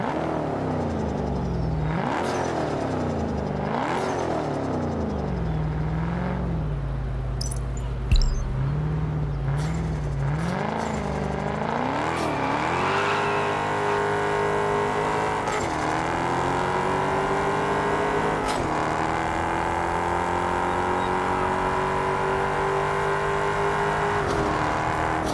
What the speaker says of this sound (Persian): من الان یه لحظه گفتم صدای ماستنگ رو گوش بدین ببینین چقدر خوبه